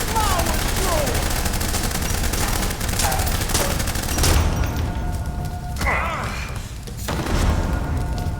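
Heavy gunfire rattles in the Blues and Bullets video game, a loud, sustained barrage of rapid shots and thuds with voices heard over it.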